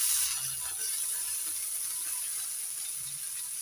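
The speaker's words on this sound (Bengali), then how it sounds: "পেঁয়াজ রসুন ভেজে নিয়ে এবার দিয়ে দিচ্ছি টমেটো কুচি।" Chopped tomato goes into a pan of frying onion and garlic, giving a steady, fairly quiet sizzling hiss that continues evenly with no voices.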